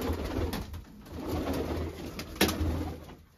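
Pigeons in a loft give low, throaty coos that rise and fall in soft repeated phrases, close by and alone without any talking.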